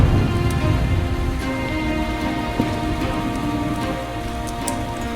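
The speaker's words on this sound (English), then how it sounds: "This rain reminds me of something." Steady rain pours down in the adventure video game Chronicles of Mystery: The Scorpio Ritual, a constant dense patter with scattered sharper drops and a faint low rumble, with no talking.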